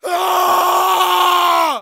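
A person lets out one loud, sustained vocal cry that holds steady for nearly two seconds before cutting off, sounding close and forceful.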